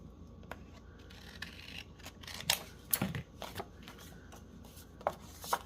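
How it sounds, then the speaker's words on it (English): Scissors snip through a strip of paper in a quiet craft setting, a series of short crisp cuts with a few louder snips near the middle and end. "So I'm gonna trim it down."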